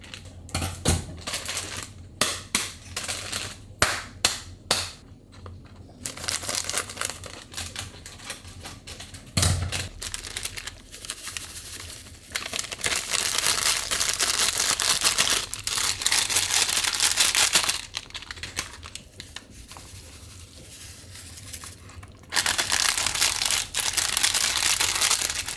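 Plastic tamarind sauce packets being opened and crinkled for Filipino sinigang soup, with sharp irregular rustles, bursts of crackling and brief quiet gaps, close up and without talk.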